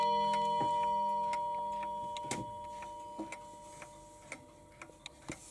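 Seiko wall clock with its movement in top condition ticking steadily and quietly, a regular series of soft clicks in a still room, with a sustained faint tone fading beneath the early ticks.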